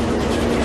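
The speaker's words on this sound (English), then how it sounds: "When a train enters an underground platform, it pushes a rush of air ahead of it." A London Underground train enters an underground platform with a loud, steady rumble and rushing roar filling the space, with no pauses for its brief duration.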